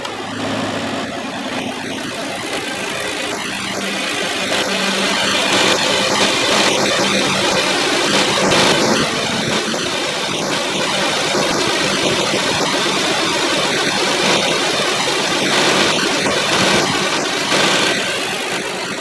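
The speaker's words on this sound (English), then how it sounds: "AC on." A 2007 Kia Sedona engine idling under the open hood with the A/C switched on, a steady close mechanical hum and whir with a faint shift early on, no voices.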